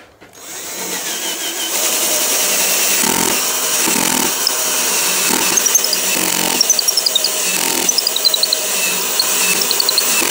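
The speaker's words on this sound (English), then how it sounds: "I'm not even really pressing on the drill that hard" A cheap electric drill bores steadily into a workpiece held in a vise, a loud, close, continuous high-pitched whine with a few faint squealing chirps, and no talking.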